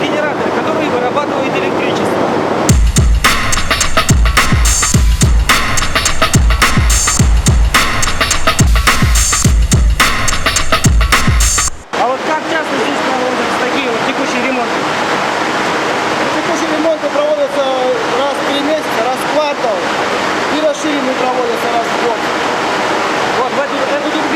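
In the turbine hall of a hydroelectric station, four turbines spun by falling water make a loud, steady rushing roar. The roar is choppy and pulsing at first, then evens into a continuous dense rumble for the rest of the clip.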